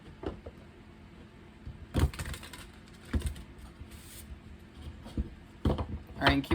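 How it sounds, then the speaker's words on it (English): Tarot cards shuffled by hand during a reading, giving several brief papery riffling bursts spread across the moment, close and fairly quiet against a soft background. "So I'm going to do one more shuffle this way."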